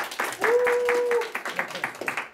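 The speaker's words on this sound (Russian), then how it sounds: "хлопаем, пожалуйста" An audience claps for a klezmer violinist in a brief, rhythmic burst of hand claps, joined by a sustained held tone from the stage.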